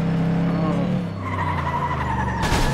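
Car tires skidding and squealing through a corner in the racing game FlatOut 2, a sustained screech over a droning engine, ending with a sharp burst of noise.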